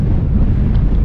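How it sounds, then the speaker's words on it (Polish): Strong wind gusts over a mountain pass in the Lofoten Islands in Norway, heavy low buffeting on the microphone, loud and continuous for about a second with no talking. "ale wiatr"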